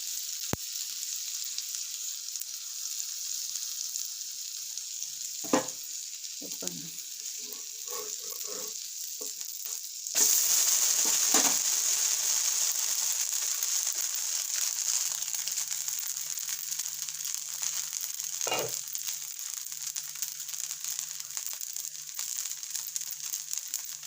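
Semolina set dosa cooking in oil in a covered pan, a steady soft sizzle throughout with a few scattered clicks and taps of the lid and utensils, no talk.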